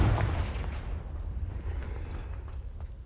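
A Confringo fire spell from Hogwarts Legacy lands as a heavy, close explosion, with a sharp boom at the start fading into a long rumbling, crackling tail.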